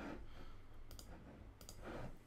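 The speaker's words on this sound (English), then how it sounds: "Sorry about the clicking." Quiet, irregular clicking noises tick through the recording in short bursts, faint and dry, with no voices.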